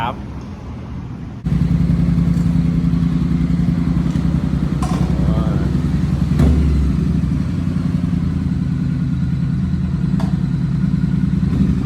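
A 2020 Triumph T100 motorcycle running close by, a loud steady engine rumble that starts abruptly and holds throughout, with a few clanks and a voice speaking over it.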